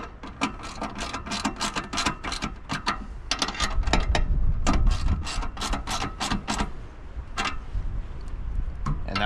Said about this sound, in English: And then we're going to get it tightened down.